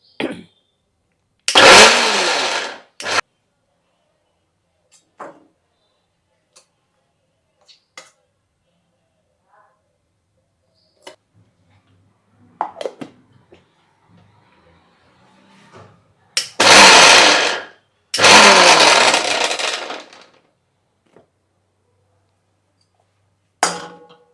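An electric mixer grinder works soaked dal without water for vati dal bhajiya, running in a few short, loud bursts separated by long quiet gaps filled with faint handling clicks.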